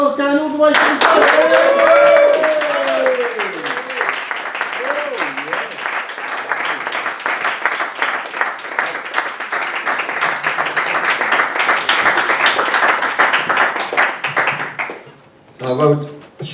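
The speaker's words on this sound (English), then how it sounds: "Get the applause going all the way to the side." Sustained audience clapping at a poetry night runs for about fourteen seconds as Jazman John takes the stage, with a voice calling over it at the start. The applause then drops away and speech resumes.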